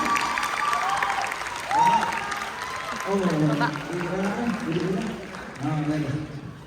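An audience at an arts-week sharing talk applauds a guest speaker, a broad wash of clapping and crowd noise with a voice speaking over it in stretches.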